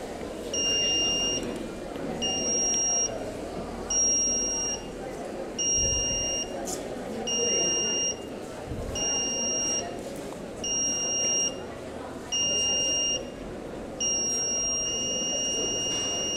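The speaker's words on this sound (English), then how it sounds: "if we press the switch, the countdown starts backwards and a sound will be coming because of the buzzer" A buzzer on a model rocket countdown at a school science expo sounds in a steady run of beeps, each about a second long with short gaps, over loud crowd chatter and voices.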